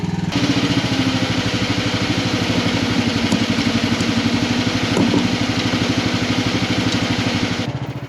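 A Chinese 1 ton mini excavator with a single hydraulic pump runs as its bucket curls and dipper lifts, making a steady, close, pulsing engine drone that stops abruptly at the end.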